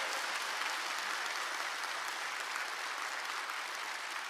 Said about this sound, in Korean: 박수, 박수, 할렐루야.